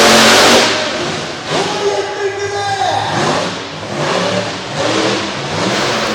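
Four-wheel-drive truck run in two-wheel drive during a freestyle in an arena, engine roaring and revving hard in long surges, loud and close, over crowd noise and an announcer's voice.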